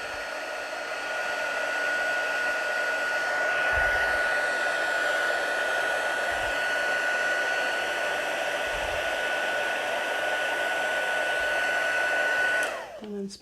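Heat embossing gun warming up for a Stampin' Up card craft, a steady, loud fan-like whoosh with a faint whine running evenly for about twelve seconds before cutting off abruptly.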